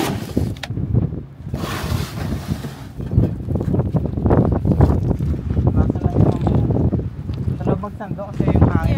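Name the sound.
wind blowing outdoors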